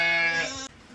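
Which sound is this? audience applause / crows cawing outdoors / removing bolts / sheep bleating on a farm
sheep bleating on a farm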